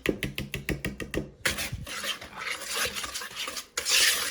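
Vanilla and imitation maple flavoring whisked into pecan pie filling in a bowl; a quick run of rhythmic whisk strokes clinks against the bowl, then gives way to continuous busy scraping and swirling, close and fairly loud, with no talking.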